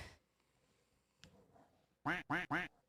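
Three loud, evenly spaced duck quacks imitated by a human voice, coming in quick succession at the end after quieter background sounds.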